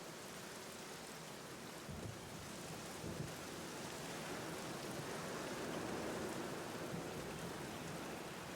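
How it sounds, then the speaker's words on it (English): Rolling thunder rumbles through a steady downpour during a thunderstorm in the horror adventure game The Black Mirror, with a sustained broadband wash of rain, low rumbles swelling midway and building slightly louder toward the end. "Oh, thunder."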